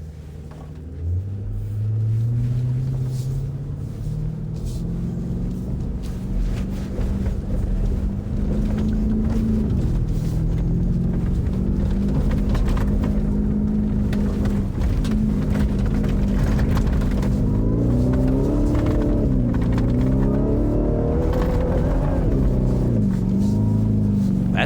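A Ford Raptor R truck climbing big sand dunes, its engine droning loud and close for a long stretch as the pitch rises and falls with the throttle, with wind rumble underneath.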